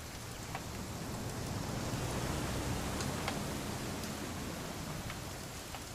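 Steady rain falls in the video game What Remains of Edith Finch, a constant even hiss of drops on surfaces with faint scattered ticks and no voices.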